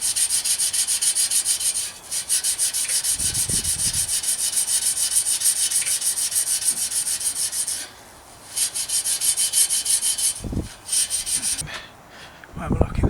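Wire wool scrubs a part on a cheap budget bike build, a steady rasping rub that runs almost continuously with a few short pauses, close and fairly loud.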